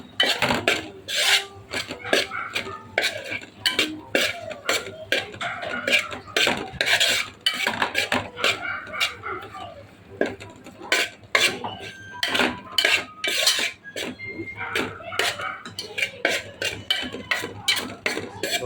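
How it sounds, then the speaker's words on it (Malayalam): Metal utensils repeatedly scrape and clink against a pan as fish pickle made from tuna is stirred, a busy steady rhythm close by with no talking. "മീൻ അതിൻ്റെ അകത്തേക്ക് ഇട്ട് നല്ലോണം ഒന്ന് ഇളക്കി"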